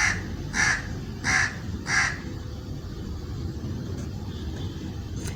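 Outdoors, a crow caws four times in a quick, evenly spaced series of harsh calls, then falls quiet, leaving a steady low background rumble.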